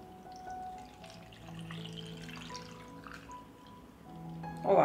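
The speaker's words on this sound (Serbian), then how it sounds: "I sada ću surutku sipati u teglu." Salted whey pours into a glass jar in a steady, soft liquid trickle, with a brighter splash near the end as the jar fills toward the top.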